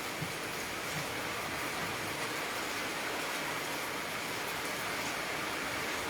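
Steady, dense hiss of falling rain, constant and even throughout with no pauses.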